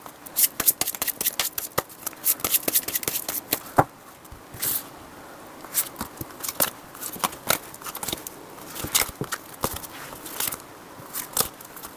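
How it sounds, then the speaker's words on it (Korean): Tarot cards being shuffled and drawn by hand: close, crisp riffling bursts and card flicks in uneven clusters, with brief pauses between handfuls and no speech. "카드 먼저 뽑아 볼게요"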